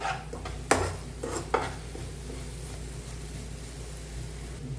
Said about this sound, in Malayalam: അതുവരെ നമുക്ക് ഇങ്ങനെ ഇളക്കി ഇളക്കി കൊടുക്കണം കേട്ടോ